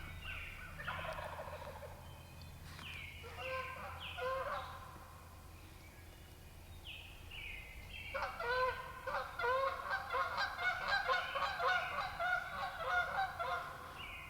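Geese honk in a series of rapid repeated calls outdoors, moderately distant. A first chorus gives way to a pause, and then a denser, louder round of honking follows.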